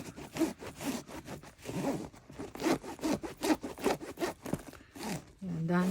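The zipper on a Louis Vuitton Speedy 40 bag is worked back and forth in short, rapid rasping strokes with a steady rhythm, close and fairly soft, while a person talks in the background.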